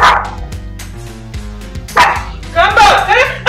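A dog barks sharply to guard its home, short loud bursts over a busy mix of voices and background music.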